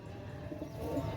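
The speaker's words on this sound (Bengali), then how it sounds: "আমার শ্রদ্ধেয় বড় ভাই নিতাই সর্দার, উনি নিচে দেখেন ভিউয়ার্স অনেক সুন্দর একজোড়া কবুতর মাশাল্লাহ।" Pigeons, a pair of high-flying pigeons, coo softly and continuously at close range, a low murmuring layered under faint background noise.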